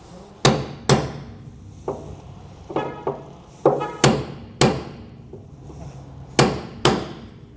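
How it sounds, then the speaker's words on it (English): A hammer strikes a center punch, marking a hole in the bed of a 2010 Ford truck during a fifth wheel installation. About a dozen sharp metallic blows come close by, some in quick pairs and others spaced apart, each ringing briefly. "here's where we punch down with that center punch"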